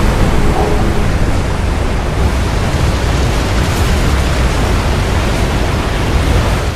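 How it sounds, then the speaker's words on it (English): A steady, broadband rush of falling water roars through a Gears of War 2 level, loud and unbroken for the whole stretch with no voices over it. "Kind of waterfall"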